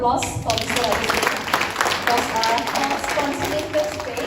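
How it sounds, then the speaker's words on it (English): Another round of clapping rises from the audience at an Indian women's entrepreneurship event, brisk and evenly sustained across the moment with individual hand claps audible near the front. "Another round of applause for Mr."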